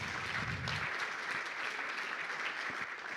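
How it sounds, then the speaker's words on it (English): A conference audience at a family business event gives a round of applause, dense sustained clapping from a room full of people, fairly loud and close throughout. "Let's give a round of applause one for Katie and Jenny."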